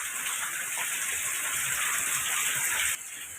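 Steady, dense rainfall hisses continuously at a rural home in Mae On, Chiang Mai, a close, even wash of drops that drops in level abruptly near the end, with no voices.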